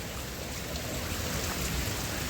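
Heavy rain pours steadily at night, a dense, even hiss of drops beating on surfaces during a storm with lightning. It fills the whole moment with no pause and no voices.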